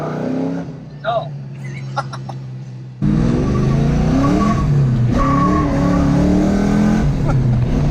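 A car drifting sideways with a clutch kick, its engine revving hard and loud through a continuous roar after a short quieter start, with people talking and shouting over it.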